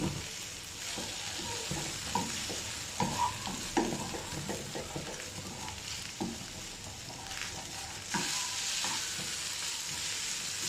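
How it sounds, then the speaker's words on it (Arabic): Chicken breast and peppers stir-fried in a pan, a steady close sizzle with repeated scraping and clattering stirring strokes throughout, no voices. "لازم نشوح الفلفل كويس معاهم عشان ما يبقاش ني"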